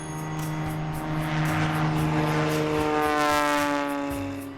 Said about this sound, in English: For this takeoff, we're using 20 degrees of flaps and a 3-point attitude.